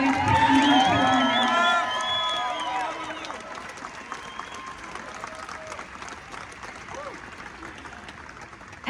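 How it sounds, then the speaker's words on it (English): A room full of people applauds and cheers for Dr Joanna Howe and her team at an evening gathering against sex-selective abortion. A whistled or whooping tone rises over the crowd at first, then the clapping continues steadily and a little softer. "could you please all give Dr Joanna Howe and her team a round of applause"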